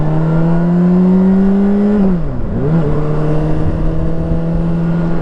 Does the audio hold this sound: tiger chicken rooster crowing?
no